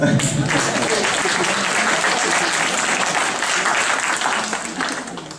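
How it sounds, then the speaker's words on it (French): An audience at an art salon prize ceremony applauds an artist, dense steady clapping filling the room for about five seconds before beginning to thin and fade. "on peut l'applaudir"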